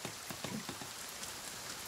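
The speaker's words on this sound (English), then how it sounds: "That is a torrential downpour." Torrential rain in the survival video game The Forest hisses steadily and faintly, with scattered drop patters through a brief stretch.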